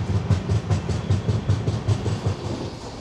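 A train rolls into Sambalpur station in Odisha, its wheels sounding a steady, close clickety-clack over rail joints beneath a constant low rumble.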